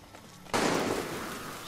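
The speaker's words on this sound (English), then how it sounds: "who's shooting?" Gunfire erupts in the shooter video game Far Cry 6, a sudden loud burst after a quiet moment that settles into a sustained rumbling crackle of shots, with no one talking.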